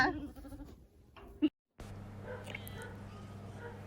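Sheep on an Australian farm bleat at moderate distance amid general farm noise and background murmur, with a short dropout partway through.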